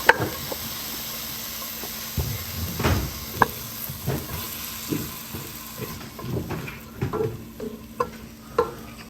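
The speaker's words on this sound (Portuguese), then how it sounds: "Agora eu vou colocar a cebola" Onion sautéing in margarine with seasonings in a pan for beans, giving a soft sizzle with scattered stirring clinks and knocks, close and moderately quiet, no talk.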